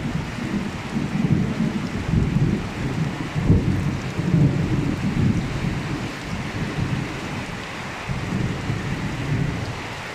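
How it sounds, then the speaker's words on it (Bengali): A nighttime thunderstorm in rural Gopalganj, Bangladesh, brings heavy rain hissing steadily while deep thunder rumbles roll and swell repeatedly in the background. "মেঘের বিকট আওয়াজ বৃষ্টি আসার আগে থেকেই শুরু হয়েছিল, এখনো বিকট আওয়াজ আছে।"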